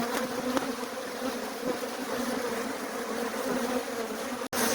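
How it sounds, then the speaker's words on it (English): Defensive honeybees swarm during a beehive relocation, their dense, continuous buzzing close and loud throughout with no pause. "I've got to reduce the number of bees because otherwise this will be a very bad experience."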